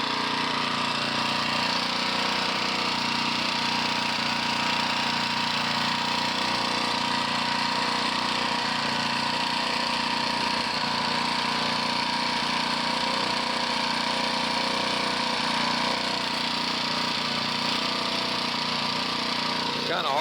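An engine treated with Liqui Moly MOS2 oil additive idles loudly and steadily for the whole stretch, a constant close drone with a faint knocking texture beneath it.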